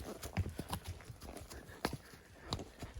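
Horse hooves clop unevenly on a dirt trail through woods, a steady walking rhythm of soft thuds and scuffs, fairly close.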